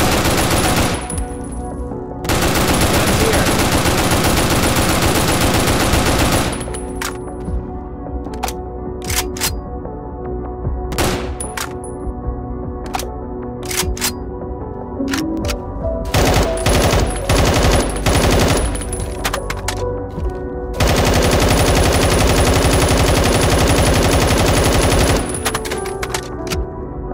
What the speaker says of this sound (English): Grabbing the assault rifle.